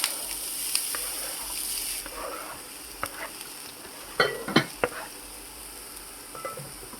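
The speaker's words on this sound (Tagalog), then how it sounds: "Ilalagay ko na ang lamas sa kawali" Chopped aromatics are frying in a pan before tofu and chayote go in, with a soft steady sizzle and a few sharp clinks and scrapes of a utensil against the pan, close and fairly quiet.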